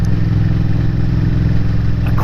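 Honda VTR motorcycle engine while riding through a small Welsh village, a loud, steady low rumble with continuous throbbing pulses, heard up close without any talking.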